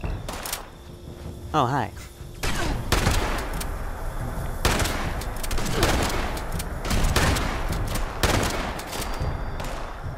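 Video game gunfire crackles in loud repeated bursts and single shots close by, with a person talking briefly between the volleys.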